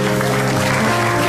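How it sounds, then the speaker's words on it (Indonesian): Studio audience applause at an Indonesian comedy talk show taping, a dense wash of clapping filling the short moment steadily with a faint voice beneath. "Tepuk tangan untuk Anda"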